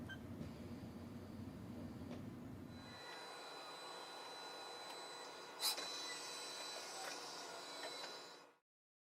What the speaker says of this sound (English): you press auto all axes and the machine will find its XYZ home